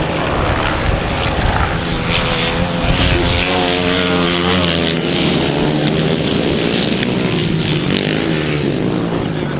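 500cc solo grasstrack motorcycles racing at a July grasstrack meeting in Winchester, their engines roaring loudly and continuously, with the pitch rising and falling as the bikes pass.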